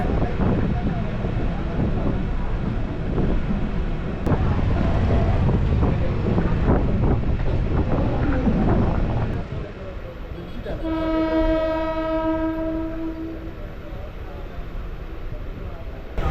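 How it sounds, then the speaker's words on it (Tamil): A Chennai suburban train rumbles and rattles loudly as it gets moving, then a long, steady horn blast sounds over the clatter. "ட்ரெயின் இப்போது ஸ்டார்ட் ஆகிடுச்சிங்க"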